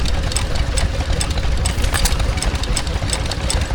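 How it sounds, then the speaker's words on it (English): An Australian-made Roseberry stationary engine drives a miniature threshing machine at a rural show, running with a steady, close, loud mechanical chug and rapid rhythmic knocking beats, with no talk over it. "This is a Roseberry and it's powering some sort of miniature threshing machine"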